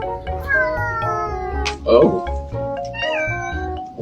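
A cat meows loudly and repeatedly at close range, with drawn-out rising and falling calls and one sharper yowl, as a person speaks briefly nearby.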